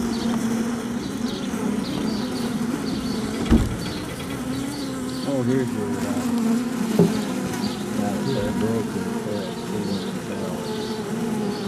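Bees buzz steadily and continuously at close range, a dense droning hum that holds for the whole stretch with no talking over it.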